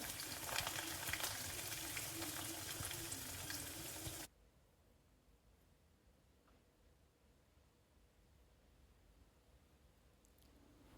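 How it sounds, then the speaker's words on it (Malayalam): Oil sizzles and crackles loudly as coconut pieces fry, then the sizzle drops abruptly to a quieter, steady hiss. "അതിലേക്ക് ചേർക്കാനുള്ള തേങ്ങാക്കൊത്തൊന്ന് വറുത്തെടുക്കാം"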